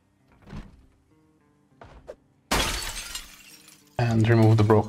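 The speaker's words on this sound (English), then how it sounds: "Oh, we have to break the window." Glass shattering as a window is broken in the zombie survival game Project Zomboid, a loud crashing burst preceded by a few quieter clicks and knocks, then a voice speaking over the end.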